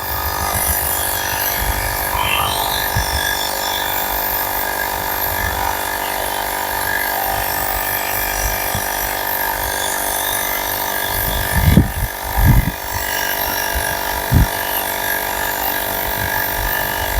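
A portable tyre inflator pumps air into a car tyre with a constant, close buzzing drone that runs unbroken throughout, with a few brief knocks near the end.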